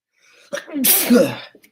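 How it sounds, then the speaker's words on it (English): A single loud sneeze up close, with a short breathy intake before the burst and a faint sniffle after. "Sorry for all the sneezing."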